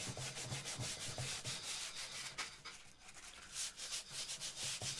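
Sandpaper rubbed back and forth across the back of a Stratocaster guitar body during relicing, a continuous close, soft rasping scrape with a brief pause midway and no talking.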